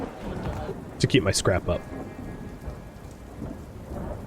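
Rain in the game Dustland Delivery, a steady hiss of falling rain with a low rumble beneath, while someone talks briefly over it.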